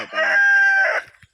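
A farmyard rooster gives one loud, close crow lasting about a second, followed by a few faint clucks.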